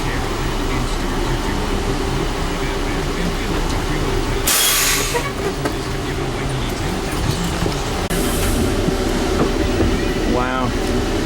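A 40-foot Class A diesel pusher RV with a turbo 8.3 Cummins pulling forward, heard as a loud, steady low engine rumble and drone with a brief hiss of air partway through. Voices talk over it.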